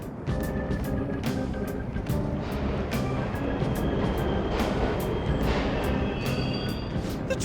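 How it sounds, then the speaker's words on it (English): Subway trains rumble steadily through an underground station in the video game Persona 5 Royal, a dense continuous roar with rattling wheel clatter and intermittent metallic squeals, loud and unbroken throughout. "The trains are totally running!"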